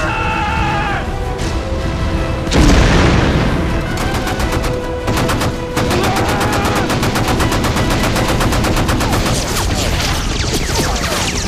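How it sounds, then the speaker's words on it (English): Rapid, continuous machine-gun fire rattles loud and close during a World War II Atlantic naval battle scene, sustained bursts of evenly spaced shots with a heavy blast early on, over a dense, noisy background. "Repeat rapid continuous fire to the shoreline."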